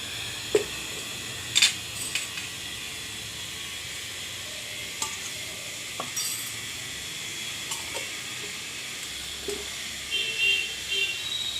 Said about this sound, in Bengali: তেলের ওপর শুকনো লঙ্কা ফোড়ন দেব